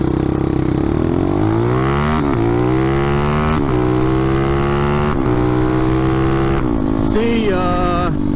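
A vehicle accelerates hard from a standstill at a red light, its loud engine revving up through several gear changes with rising pitch, then dropping into a different tone near the end, close and continuous.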